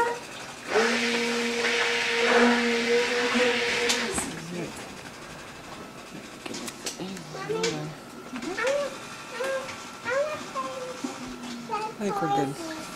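A stick blender whirs loudly and steadily in a soap pot as it beats a lye solution for soapmaking. After about four seconds it stops, and people chat casually nearby.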